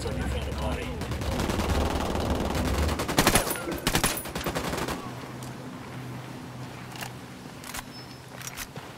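Gunfire in the video game Ghost Recon Wildlands: a sustained loud volley of automatic weapon fire that ends in a few sharp shots, then gives way to scattered distant single shots over quiet ambience.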